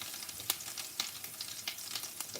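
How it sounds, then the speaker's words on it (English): Ginger and garlic paste frying in a pan for a tikka masala curry, a steady close crackling sizzle with small sharp pops and light stirring scrapes. "The sizzling sound is becoming a little less and it's changing colour slightly"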